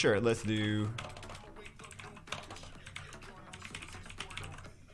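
Rapid, close clicking of keys on a computer keyboard, a steady patter of short taps following a brief louder tonal sound at the start.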